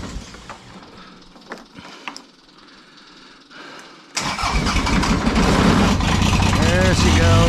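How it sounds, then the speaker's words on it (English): A 4-wheel-drive snow plow vehicle that has been sitting cranks and then catches into a loud, steady running engine on a snowy Michigan day, following quieter shuffling and handling sounds. "Let's see if this thing's gonna start"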